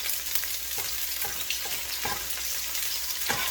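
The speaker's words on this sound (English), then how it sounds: "So you can hear the sizzle, but the splattering is at a minimum" Steady hiss of dried garlic and green onion sizzling in hot oil, with occasional soft pops and stirring scrapes, close and continuous.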